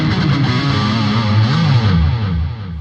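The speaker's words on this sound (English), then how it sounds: "Massive, massive difference when it comes to distorted tones and delays." A BOSS GT-1000 shapes a heavily distorted guitar with delay, sustained loud notes sliding between pitches while echoing repeats blur together, fading slightly near the end.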